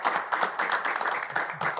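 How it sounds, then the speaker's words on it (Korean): Applause from a church conference audience welcoming a pastor, a dense steady patter of many hands clapping throughout, moderately loud and continuous. "우리 박수로 맞아주시기 바랍니다"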